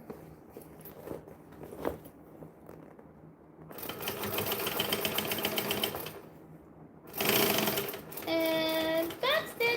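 A home sewing machine stitching a bag during a sewing marathon, whirring in two loud bursts with a backstitch between them, with soft talk and a few rustles around the runs.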